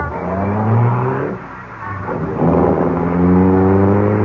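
Car engine effect in an old-time radio mystery drama, a steady low engine drone that swells, dips briefly, then rises again as if revving and pulling away, with no voices over it.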